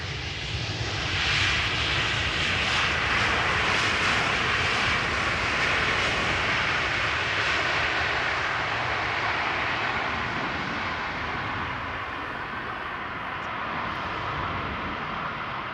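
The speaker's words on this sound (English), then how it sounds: "A320 from EasyJet arriving from Geneva" An EasyJet Airbus A320 arriving at Amsterdam Schiphol roars past, a loud, broad jet rush that swells early, holds steady, then slowly fades, with no voices.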